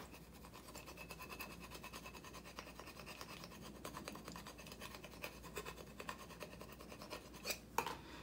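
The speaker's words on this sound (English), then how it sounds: "use your scraper to press down firmly." A scraper rubs and presses firmly over vinyl transfer tape on a small craft pot, giving soft, continuous scratching strokes close up with a few sharper scrapes near the end, quiet and without speech.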